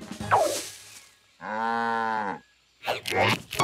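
A cow moos once, a long, low, steady call framed by softer rustling and breathy noises before and after.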